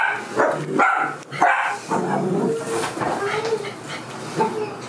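A dog barks a few times nearby, short sharp yips mixed with whimpering, while people talk quietly over it.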